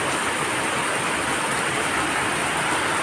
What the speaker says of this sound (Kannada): ಬಿಡದೆ ಬರುತ್ತಿರುವ ಮಳೆ ತಗ್ಗು ಪ್ರದೇಶಗಳನ್ನೆಲ್ಲ ತುಂಬಿಕೊಳ್ಳುವಂತಹ